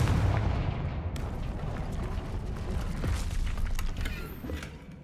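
A Confringo blasting spell goes off in the video game Hogwarts Legacy, a loud booming burst at the start followed by crackling, rumbling debris and scattered impacts that fade over a few seconds.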